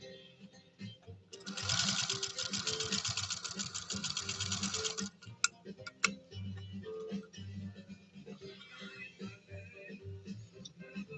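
A Singer 201-2 sewing machine stitches thin cotton in a fast, steady mechanical chatter for a few seconds, then stops, leaving a couple of sharp clicks and a faint room hum.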